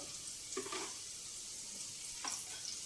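A soft, steady sizzle of tempering spices frying in hot oil, with a couple of faint stirring scrapes and no voices.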